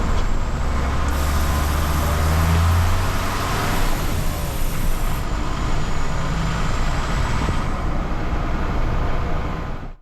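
A Mercedes Vario 612D chassis-cab truck, stripped of its flatbed, drives along with a continuous loud diesel engine drone and road rumble, recorded from inside the cab at a steady pace.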